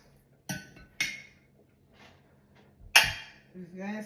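A ceramic or glass baking dish is picked up and set down in a kitchen, giving several clinks and knocks, close and fairly loud, with a voice talking briefly near the end.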